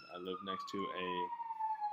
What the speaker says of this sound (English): sorry also for the sirens in the background